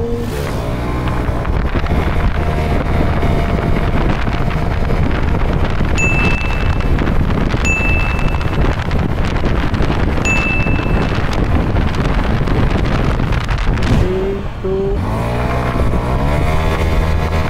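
A Maxxie 160 motorcycle with a 160cc single-cylinder engine accelerates hard, its engine note climbing through several gear changes with brief dips, heard up close under heavy wind buffeting against the microphone.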